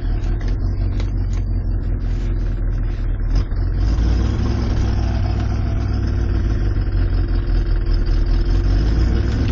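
A car engine idles steadily after a cold start outdoors, a close, continuous low rumble with a slight lumpy pulse and little change over the whole stretch.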